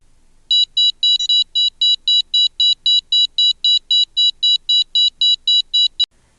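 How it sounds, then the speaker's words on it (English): A DOVE scenar device gives a sustained run of regular electronic beeps, about eighteen evenly spaced high-pitched pulses, clear and close in an otherwise silent room, ending with a brief click. "you will hear a long regular beep indicating that the dose has been achieved"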